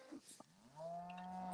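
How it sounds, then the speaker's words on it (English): A single drawn-out moo from a cow in a fussy herd being moved into a paddock, rising and holding near the end, preceded by faint scattered farm noises. "We're going to move the cows into this paddock right here."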